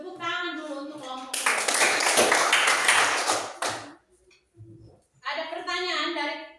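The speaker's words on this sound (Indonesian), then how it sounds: "Tepuk tangan dulu untuk kelompok." Classroom applause for a student group, a burst of many hands clapping for a few seconds between a teacher's spoken lines, with children's voices nearby.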